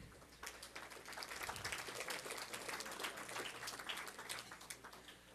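Audience applause at a school board meeting fills the room steadily, dense and continuous clapping with no speech over it.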